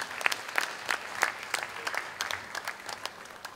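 Audience applause at a kibbutz holiday celebration, a light scattered clapping with distinct individual claps in an irregular rhythm, fairly faint and gradually tapering.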